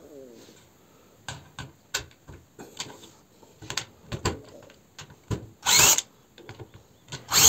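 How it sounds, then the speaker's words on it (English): A tool works out the screws holding the foot of a convector heater during a repair, with scattered close clicks and short whirring bursts, one louder burst near the end, and no speech. "one screw here, other screw out here, same on this side, two screws. Let's get them out."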